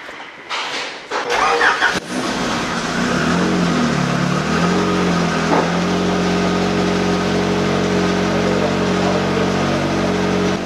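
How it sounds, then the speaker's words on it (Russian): A Honda Integra cranks briefly, catches and fires up, then settles into a steady, loud idle that holds for the rest of the stretch. "Сначала я завожу машину, тебя послушать."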